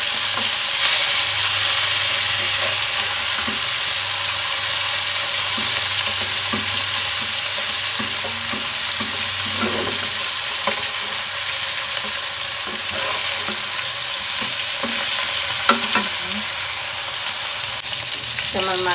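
Fish frying in a pan, a steady close sizzle running throughout with occasional faint stirring and handling noises, no talking.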